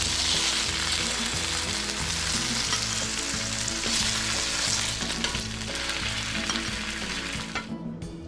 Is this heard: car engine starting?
no